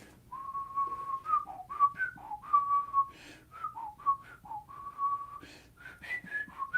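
A person whistles a wavering, melodic tune close by. The notes slide up and down in short phrases, with brief breaths between them and no other sound around it.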